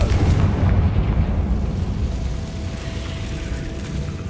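A Confringo spell blasts a barricade in Hogwarts Legacy on PS5, a loud booming explosion with a deep rumbling low end that carries and slowly decays across the whole stretch.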